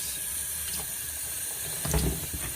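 Hot water runs from a tap in a steady hissing stream while cleaning an X-ray film processor, with a brief louder splash near the end.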